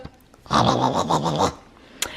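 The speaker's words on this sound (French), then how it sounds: "Depuis quand tu jappes, toi?" A dog indoors lets out one sustained, harmonic bark-like growl lasting about a second, close and fairly loud, followed by a brief sharp click.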